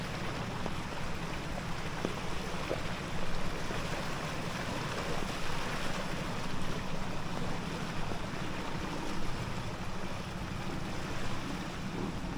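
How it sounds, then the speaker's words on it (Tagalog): A continuous, broad rush of churning floodwater from heavy rains in Bacolod, Philippines, loud and steady throughout with no breaks, like a strong torrent flowing close by. "Lakas na mahagos ng tubig."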